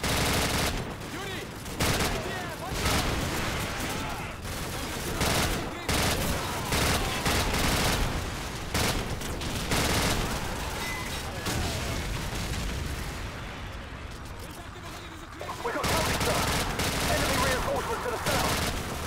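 Constant heavy gunfire in a Call of Duty Modern Warfare battle, dense overlapping shots and booms that fill the whole stretch with barely a pause, and voices heard now and then through the din.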